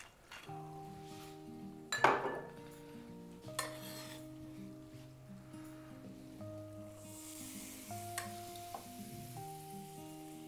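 Shallots and garlic frying in olive oil in a pan: a soft sizzle beneath occasional stirring and clinks of utensil on cookware, a sharp knock early on, with gentle music playing underneath.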